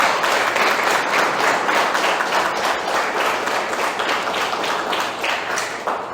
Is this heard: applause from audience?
yes